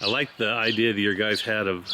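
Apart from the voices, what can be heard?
No everyday noise stands out behind the speech.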